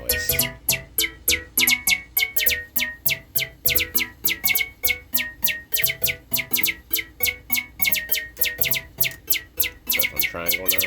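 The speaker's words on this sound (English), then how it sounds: "Also love when you turn your resonance up and start making a bird chirping noise." Moog Subharmonicon synthesizer with its filter resonance turned up into self-oscillation, producing rapid, loud, evenly repeating high chirps like a bird over a pulsing synth sequence, continuous and close.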